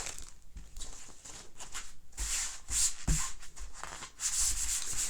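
An ink transfer rubbed onto a fuzzy cloth: soft, uneven brushing and scuffing strokes in irregular bursts, close and fairly quiet, with a few louder swipes.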